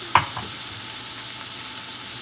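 A little over a pound of shrimp cooking in a pan for a keto meal, a steady soft sizzle throughout with one sharp clink near the start, no talking.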